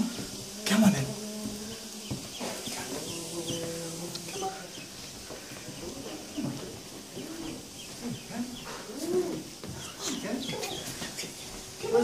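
Ducklings cheep in short, high peeps scattered through the clip, close by, with a few clucky bird-like calls and a faint background hum.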